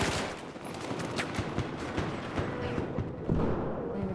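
Rapid gunfire in a shooting video game, a sustained rattle of closely spaced shots with some thuds, steady and fairly loud throughout.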